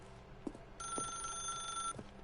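An office telephone rings in The Stanley Parable, a single sustained electronic ring lasting about a second, framed by soft thumps and clicks in a quiet room.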